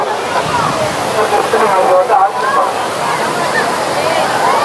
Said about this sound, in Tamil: செம்ம தண்ணி கொட்டுது